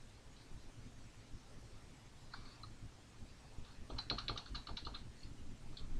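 Short bursts of keystrokes on a computer keyboard as a five-digit troop number is entered, a brief tap followed by a quicker cluster of clicks, close and fairly quiet over a soft background hiss.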